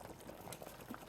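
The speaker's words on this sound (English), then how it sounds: "adding the meat water," Frozen-then-thawed meat stock poured into a pot of yam porridge with spinach, a soft bubbling, gurgling liquid sound close up and fairly quiet, with no talking.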